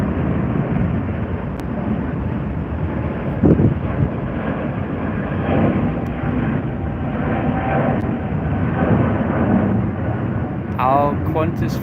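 An American Airlines Boeing 777-300ER airliner gives off a steady, broad engine roar that holds at one level throughout, blended with wind buffeting on the microphone and faint talk in the background.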